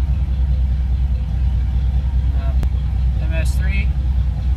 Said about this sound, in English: this thing idles so nice with DFI, it's crazy